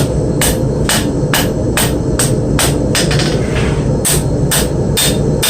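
A hammer strikes a knife blade being forged in a quick, regular series of sharp ringing blows, loud and close, over a steady background hum.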